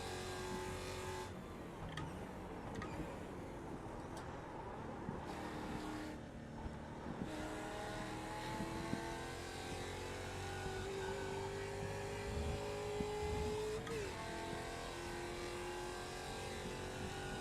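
A race car engine in the Automobilista sim racing game at Imola drones steadily, with rising tones as it accelerates through the gears and brief shifts in pitch, continuous at a moderate level.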